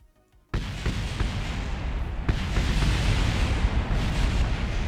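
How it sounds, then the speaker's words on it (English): A loud explosion in the Kerbal Space Program video game bursts in suddenly and rolls on as a dense, sustained roar with crackling debris. "Explosions. Explosions everywhere."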